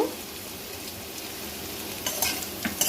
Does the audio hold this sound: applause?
no